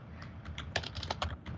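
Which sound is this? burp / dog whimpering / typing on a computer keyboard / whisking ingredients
typing on a computer keyboard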